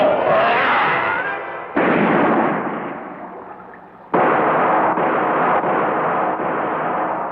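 Cartoon gunfire as policemen shoot at two lions, loud bursts of noisy blasts in a dense soundtrack: a long roaring stretch that fades, then a sharp onset and a steady series of closely spaced cracks.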